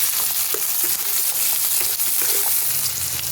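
Green chilies and poppy-almond paste frying in a pan for white chicken, making a dense, continuous, close sizzle with light stirring clicks and no voices.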